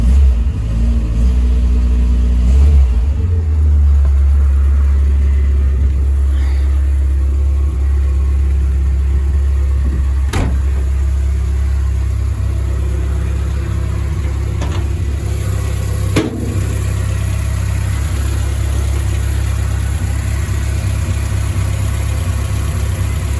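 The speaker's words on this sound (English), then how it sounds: "Give that a nice idle speed there, warm it up quickly" A Morris Minor engine, just back from head gasket repairs, idles steadily and close up with a low, even rumble, picking up a little in its first seconds before settling.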